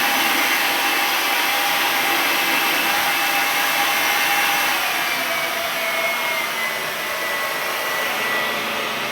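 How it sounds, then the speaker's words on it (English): A blow dryer set on hot runs continuously at close range, a loud steady whooshing roar with no pauses, used to heat plastic over bleached hair. "If you don't have a hood dryer, you can just use a blow dryer."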